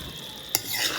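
Steady sizzling hiss of seasoning frying in a pan for Jamaican fried dumplings with tinned mackerel, with a brief sharp stir or scrape partway through.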